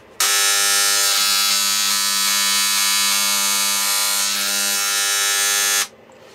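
A Dremel engraver, an impact-type tool, runs with a loud, harsh, steady buzz. It starts abruptly, holds a dense whine for nearly six seconds with a slight shift in tone partway through, then stops suddenly.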